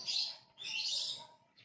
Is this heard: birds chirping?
yes